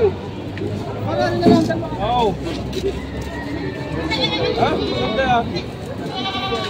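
Several goats bleat over and over amid a busy crowd murmur at a goat market in Padre Garcia, Batangas, their wavering cries rising above constant chatter from people nearby.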